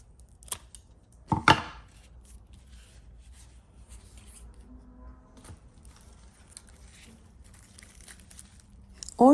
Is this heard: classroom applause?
no